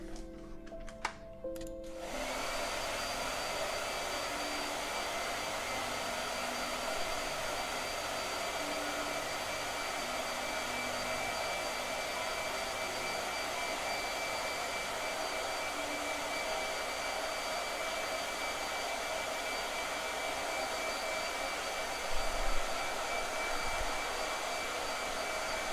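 A blow dryer runs steadily at close range, a constant whooshing motor hum with a faint whine that starts after a brief fumble and holds unchanged for over twenty seconds.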